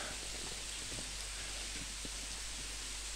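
Pha Rom Yen waterfall plunging from a great height among large trees, heard as a steady, dense roar of rushing water with no break throughout.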